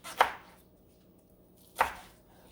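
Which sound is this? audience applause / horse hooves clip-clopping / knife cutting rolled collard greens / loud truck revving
knife cutting rolled collard greens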